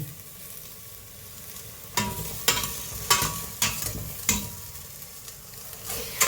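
Beef being stirred in a cooking pot for an old-style Thai beef soup, with a pressure cooker on hand: a quiet simmering bed broken by a series of distinct scraping, clattering stir strokes, close and fairly regular, with no talk.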